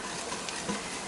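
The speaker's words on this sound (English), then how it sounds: "just keep moving that mixture around for a couple of minutes" Butter and flour roux cooks in a pot for broccoli cheddar soup, giving a soft continuous sizzle and faint scraping as it is stirred, close and low in level.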